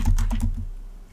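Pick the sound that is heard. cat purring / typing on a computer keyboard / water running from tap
typing on a computer keyboard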